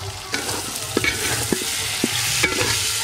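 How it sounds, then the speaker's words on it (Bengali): Tomato, capsicum, slit green chillies and spices are stirred in a hot pan, a spatula scraping in a few distinct strokes over a steady close sizzle, with no talking. "একটু ভালো করে নেড়ে নেব।"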